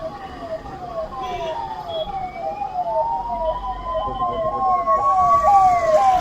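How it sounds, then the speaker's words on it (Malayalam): A siren wails nearby, sweeping quickly up and down in a repeating yelp, with road traffic rumbling underneath. "ബാക്കിലൊരു ആംബുലൻസ് ആണല്ലോ ആംബുലൻസ്"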